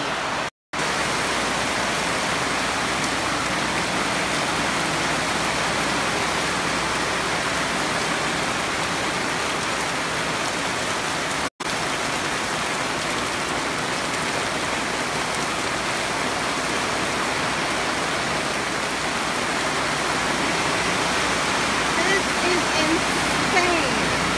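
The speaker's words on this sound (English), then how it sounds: "It's raining crazy." Heavy rain pours steadily in a dense, continuous roar close by, with one brief dropout partway through.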